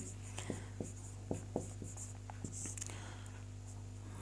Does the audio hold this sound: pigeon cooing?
no